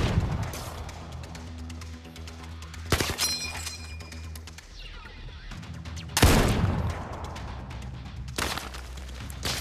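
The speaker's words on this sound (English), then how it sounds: "he's got a shotgun" Shotgun fire in the VR shooter Zero Caliber: two loud, sharp blasts about three seconds apart, each followed by a decaying tail, over quieter game ambience.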